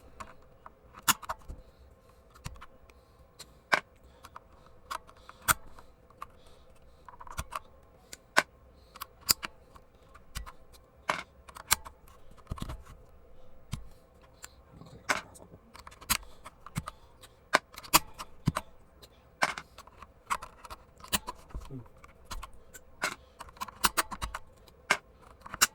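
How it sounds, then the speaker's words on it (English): Keycaps being pried off a keyboard with a keycap puller, heard as scattered sharp plastic clicks and snaps at irregular intervals over a quiet background, close and fairly soft, with no voices. "Got my keycap puller right here."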